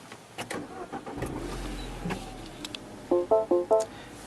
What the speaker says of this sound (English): So starting up the car, that's the key over there.